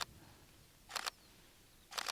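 Two camera shutter clicks from a single-lens reflex camera set to a fast shutter speed while shooting overlapping frames for a panorama, each a short sharp burst about a second apart, close and alone over a quiet background.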